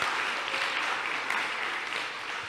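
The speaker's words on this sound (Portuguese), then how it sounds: "pode aplaudir, irmão. É para Jesus." A church congregation applauds in a steady, dense wash of clapping that stays even and fairly loud throughout, with no gaps.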